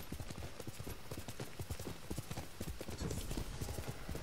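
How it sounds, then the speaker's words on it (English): A horse's hooves clip-clop in a fast, steady trotting rhythm in the video game Ghost of Tsushima, close and continuous throughout. "It's not just a horse, he's Nobu"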